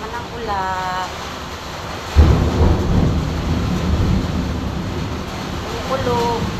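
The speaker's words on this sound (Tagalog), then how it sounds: "Kumukulog." Thunder breaks suddenly and rumbles on through a heavy rainstorm, a deep sustained roll over steady downpour, with a person talking briefly before and after.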